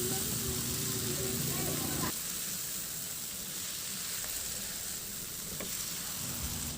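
Bagoong shrimp paste sizzles and fries in a pan with a steady, dense hiss, cooking for a monggo dish, close and loud with light stirring noises.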